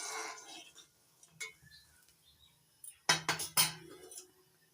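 Turmeric powder and salt mixed into lentils, heard as scattered metal clinks of a spoon against a pot, quiet at first and then a quick cluster of louder knocks near the end.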